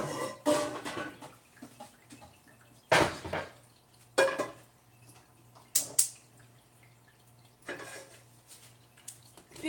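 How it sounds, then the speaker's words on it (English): A skillet is pulled out in a home kitchen, giving several sharp metallic clanks and knocks of pans and utensils at irregular intervals, close and fairly loud, over a faint steady hum, with no talking. "Now I'm getting out a skillet."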